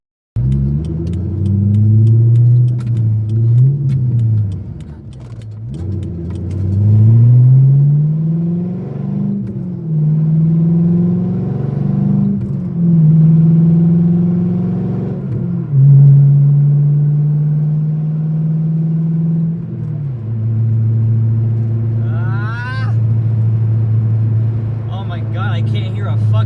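A Corvette with straight pipes revs repeatedly, loud and close, its deep exhaust note rising and falling in rough bursts before settling into a steady idle-like rumble.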